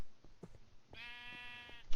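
A Minecraft sheep bleats once, a wavering tonal baa lasting under a second, heard close and alone after a few soft game clicks and footsteps.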